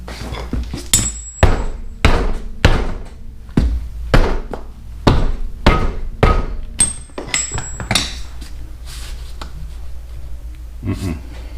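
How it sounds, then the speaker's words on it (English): Repeated heavy thunks of a mini sledgehammer striking a wood block against a rusted front wheel hub on a 2003 Toyota Matrix, about a dozen loud blows in an uneven rhythm, close by. "I took a couple good whacks from the inside with a block of wood and a hammer, mini sledge"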